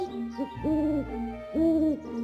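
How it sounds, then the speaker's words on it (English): Two drawn-out hoots from an owl, each a steady low tone with a slight rise and fall, separated by a short pause, fairly close and clear. "That's right, the owl is hooting."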